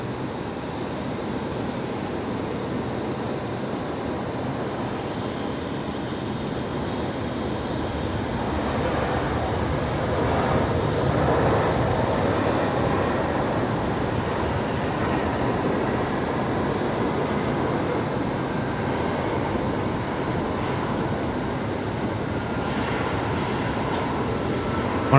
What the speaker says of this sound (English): There we go, the A350-900 coming in from Auckland